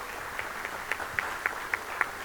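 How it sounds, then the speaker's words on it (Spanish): Scattered applause from a small audience at an agricultural panel session, a few distinct claps standing out over a thin, faint patter, with no talking. "un aplauso"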